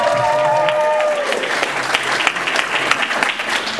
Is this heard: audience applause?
yes